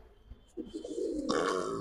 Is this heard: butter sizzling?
no